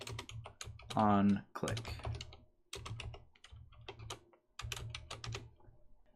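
Bursts of computer keyboard typing while code is written for a Unity project, quick clicking keystrokes in short clusters, close and fairly loud, with a person briefly speaking between them.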